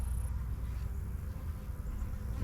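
Honey bees drone in a steady, close buzz while a beehive is opened for inspection, the hum constant and unbroken with no talk.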